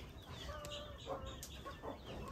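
A hen clucks softly in a farmyard, giving a few short, moderately distant clucks over a steady background hiss.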